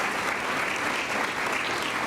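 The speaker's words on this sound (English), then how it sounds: "Let's give them a round of applause." Dense, sustained clapping from a crowd at an awards ceremony, even and unbroken throughout, with no voices standing out.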